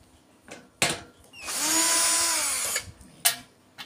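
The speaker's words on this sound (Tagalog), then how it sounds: "So tanggal na po natin yung mga screw guys." A power drill or screwdriver backing screws out of a large broken rice cooker: short clicks, then one sustained whirring burst of about a second and a half, followed by a few sharp taps, close and alone.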